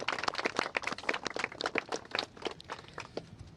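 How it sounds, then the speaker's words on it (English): Applause from a press-conference audience honoring survivors, a dense patter of many hands clapping at moderate distance, steady then thinning toward the end, with no talk over it. "Let's just give a round of applause for all the courage and strength that the survivors have shown."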